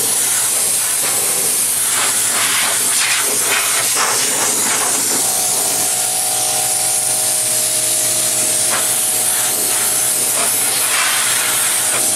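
Compressed air hissing loudly and steadily while a commercial refrigerator is blown clean during annual maintenance, with an air compressor humming on partway through.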